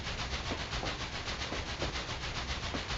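A train in the Trainz 2 railway game rolls past as a steady, low, broadband rumble with faint rhythmic pulses, fairly quiet and with no voices.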